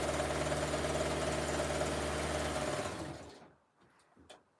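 A sewing machine runs at a steady fast hum, stitching fabric strips for a jelly roll rug, then slows and stops, leaving a few faint clicks and handling noises.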